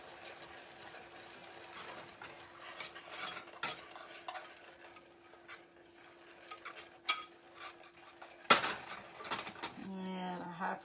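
Pecans being stirred into hot keto caramel in a pan on a switched-off burner, with soft scraping and a few sharp clinks of utensil on pan, faint and close, followed by a louder clatter near the end.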